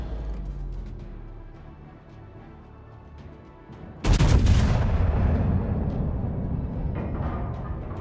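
In World of Warships, the battleship Arizona fires its main guns as one sudden loud salvo blast, followed by a long rumbling decay over quieter naval battle ambience.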